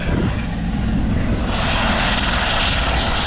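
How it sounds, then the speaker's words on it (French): A loud engine roar from aircraft, reported as helicopters taking off nearby, fills the whole stretch as a steady close drone that swells in the upper range partway through, with no talk. "Il y a des hélicos qui décollent depuis tout à l'heure"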